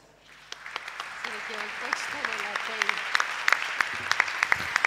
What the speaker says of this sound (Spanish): Pedimos para todos ellos un gran aplauso.